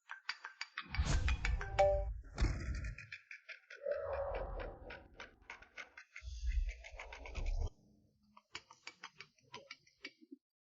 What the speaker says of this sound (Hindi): बॉस मैं एक फोन कॉल लेने जा रहा हूँ।